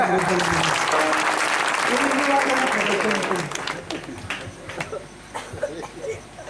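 Applause from an audience at a devotional spiritual gathering: loud, dense clapping that fills the first half, then thins out into scattered claps as a voice starts speaking.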